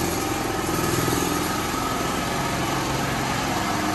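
Engine of a Raven MVP 7100 generator/ATV/mower combo running steadily as the machine drives indoors, a loud continuous motor drone with no pauses across the whole stretch.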